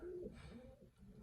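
Racing pigeons coo softly in their loft, a low, throaty burbling call that rolls and repeats close by, fairly quiet, with no one talking.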